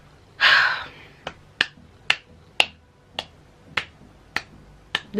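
A person claps their hands a number of times in an evenly spaced rhythm, each clap sharp and close. One longer, breathier burst comes first, and there is no talk.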